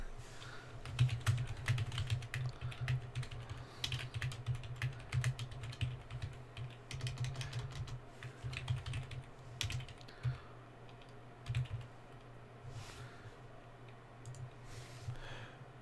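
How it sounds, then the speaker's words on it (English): Steady computer keyboard typing fills the scene, a continuous run of close clicks and key taps with brief pauses, no talking. "I need to just type on my Twitter."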